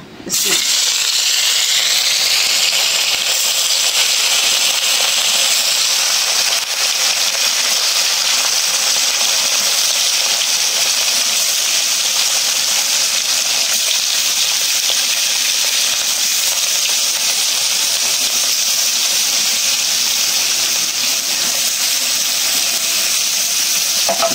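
Fish pieces dropped into hot oil, setting off a loud sustained sizzle that stays strong and even for over twenty seconds, heard close by with no talking.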